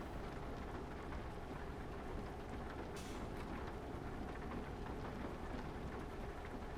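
Steady rain in the video game Euro Truck Simulator 2 hisses continuously at an even, moderate level, with a brief brighter burst partway through and no voices.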